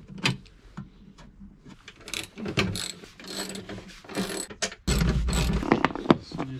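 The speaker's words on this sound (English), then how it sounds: "I'm going to be using an E14 socket, torque socket, I think that's what it's called, to take this seat off." A socket wrench with an E14 Torx socket ratchets bolts off a van's passenger seat, giving quick clicking runs in short bursts with brief pauses, close and clear.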